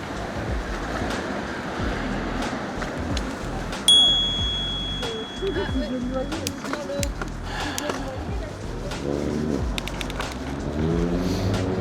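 An Engwe Zip electric bike's bell gives a single bright ding over outdoor street noise, while a person talks around it.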